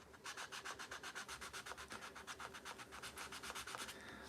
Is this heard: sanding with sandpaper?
yes